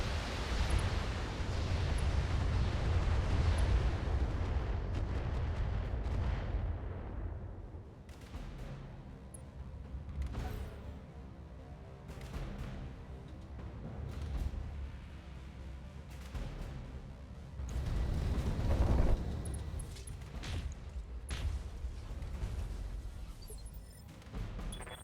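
Missile systems firing in the BattleTech video game, heavy rumbling booms and roaring launch bursts that swell loud at the start and again later, with quieter crackling stretches between.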